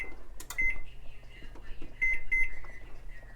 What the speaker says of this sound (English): you want to set your timer to exactly 12 minutes.